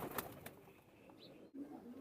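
Teddy pigeons murmur low coos at close range, with a brief flutter and a faint chirp among them.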